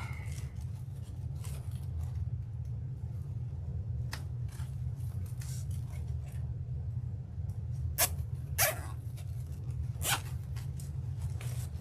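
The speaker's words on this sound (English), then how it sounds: "Take a zip tie." A plastic zip tie is fastened around a deco mesh bow for a Valentine's Day wreath, giving brief ratcheting zips and crinkly rustles over a low steady hum, with no voices.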